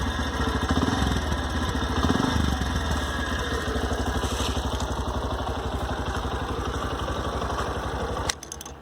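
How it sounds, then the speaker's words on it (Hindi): Exhaust of a Bajaj Platina 110 ABS BS6 commuter motorcycle idling close by, a steady low thumping putter that holds level throughout and then dips briefly near the end. "सुन लिया आप लोगों ने इसका एग्जॉस्ट नोट।"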